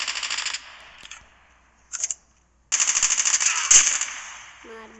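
Rapid automatic gunfire from the Call of Duty video game comes in loud bursts, a short burst, a pause, then a longer sustained volley, with the sound close and dominant.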